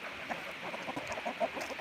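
Farm poultry on a rural South Dakota farm, a turkey among ducks, gives several short clucking calls in quick bursts at close range, with no talking.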